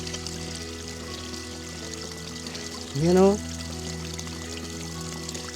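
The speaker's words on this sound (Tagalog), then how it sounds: "Ang ganda ng yung agas niya ba, ang ganda ng tunog." Water flows steadily along a canal, a close, continuous rushing wash with a brief louder pouring surge near the middle, and a short spoken word heard over it.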